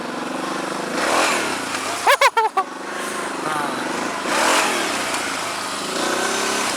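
Quad ATV engine rumbling and revving while riding over rocks and holes, with a close, sharp burst of throttle blips in the middle and people talking over the engine.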